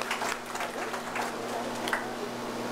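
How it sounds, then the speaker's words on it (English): Audience members at a primary schools quiz competition clap for the contestants, a fairly even patter of applause in a room with a low steady hum underneath. "Can we give them a round of applause?"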